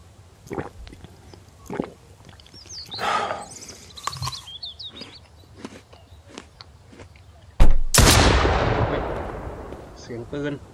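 Gunshots in the survival game Mist Survival: scattered distant cracks, then one loud, close blast with a long, decaying echo, set against faint bird chirps.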